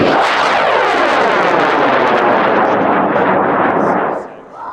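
A tall white high power model rocket launches at a high power rocket launch, its motor giving a loud, sustained roaring blast of broadband noise that holds steady for about four seconds before starting to fade.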